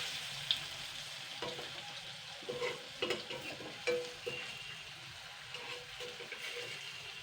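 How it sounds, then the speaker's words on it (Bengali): Lentil fritters fry in hot oil in a pan, a faint steady sizzle broken by a few light scrapes and clinks of stirring and turning. "ডালের বড়া তো ভাজা হচ্ছে, এটা খুব সুন্দর গন্ধ বেরোচ্ছে"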